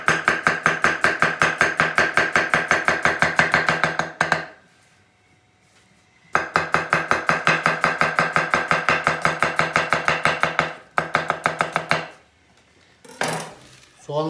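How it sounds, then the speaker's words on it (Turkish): A knife chops vegetables, likely onions, in a Turkish home kitchen during eggplant dish prep, striking a board in fast, steady, loud close-up bursts, pausing between runs of rapid strokes, with no talk. "Şimdi bu şekerli suyun içinde beklerken biz diğer malzemeyi doğrayacağız."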